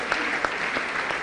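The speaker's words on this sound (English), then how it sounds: "Please clap for them again." Brief, fairly quiet applause from a seated audience, a soft wash of clapping with a few sharper claps.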